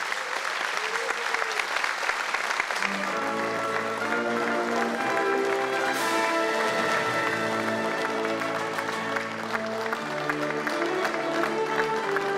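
A crowd at a presidential inauguration in South Korea claps steadily and densely, with a musical band playing sustained tones beneath the applause from a few seconds in.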